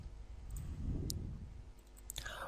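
A few sharp mouse clicks, spaced apart, while unloading a Rainmeter desktop skin on a Windows 7 PC, over a low steady background rumble.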